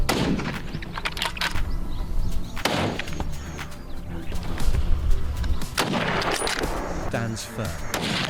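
Gunshots in a wild boar hunting video game, several heavy booming shots at irregular intervals over a dense, rumbling game soundtrack, with a voice talking throughout.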